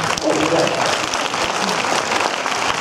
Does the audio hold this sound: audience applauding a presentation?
yes